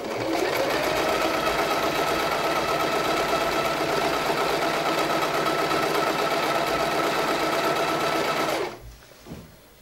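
A Silvercrest sewing machine runs a zigzag stitch, a steady, loud mechanical whir held for about nine seconds before it stops abruptly, leaving a couple of faint clicks.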